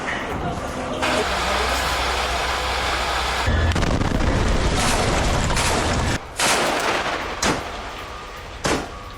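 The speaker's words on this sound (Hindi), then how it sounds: "एक धमाके के साथ इस घर को उड़ा दिया गया" A loud, sustained roar of a large explosion as a house in Gaza is blown up by the Israeli army, with heavy rumbling debris, followed by several sharp bursts and crackles against a constant low background.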